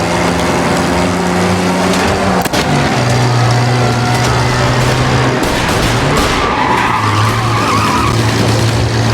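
Pursuing car in the Mafia Definitive Edition video game chasing a booze truck, loud engine roar with sustained tire skids and squeals close by, no talk.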